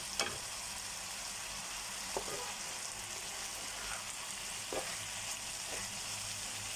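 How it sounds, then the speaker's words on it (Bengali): Vegetable filling of carrot, green chilli and onion fries in a pan, giving a soft, even, continuous sizzle with a few light stirring clicks and no speech. "এখন এই পুরটাকে আমি ভাজা ভাজা করে নেব।"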